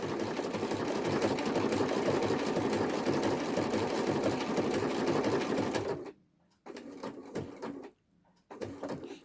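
A sewing machine stitching a crazy quilt block, running in a loud, steady whirring rattle for several seconds, then stopping and restarting in shorter bursts.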